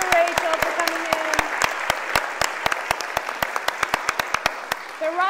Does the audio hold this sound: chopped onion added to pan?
no